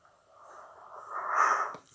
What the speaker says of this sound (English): Excuse me for yawning my head off.